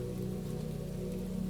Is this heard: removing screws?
no